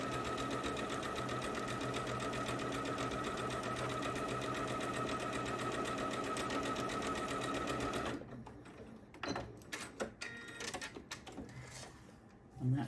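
A sewing machine joining two quilt seams made from Japanese fabric runs at a steady fast whirring stitch for about eight seconds, then stops, giving way to light clicks and handling noises at close range.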